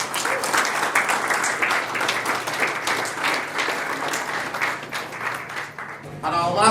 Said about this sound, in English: Can we have a big round of applause for Donovan?